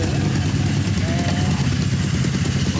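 A Honda FTR223 motorcycle engine runs continuously at a steady idle, close and loud, with a rapid mechanical chugging throughout.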